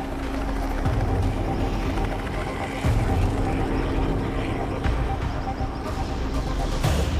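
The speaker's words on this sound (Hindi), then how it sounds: "माइक हेलीकॉप्टर से लटके डार्ट मारने के लिए बिल्कुल तैयार है।" A helicopter flies low over open African bush during a baby rhino darting operation. Its loud, continuous rotor and engine roar fills the whole stretch with steady low rumbling and no speech.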